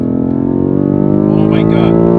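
BMW M5 Competition in four-wheel-drive sport mode accelerating hard through the gears, its engine note a loud, rising harmonic roar that climbs steadily, with a voice speaking briefly over it.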